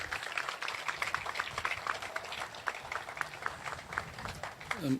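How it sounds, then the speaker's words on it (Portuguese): A big round of applause fills an official project launch ceremony, many hands clapping in a dense, steady patter at moderate distance, continuing without a break. "me quero pedir a trobe, um aplauso grande"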